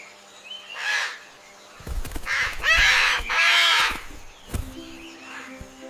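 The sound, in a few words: parrot calling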